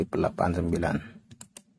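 Computer keyboard typing of a verification code: a short run of light key taps near the end, following a brief stretch of quiet speech.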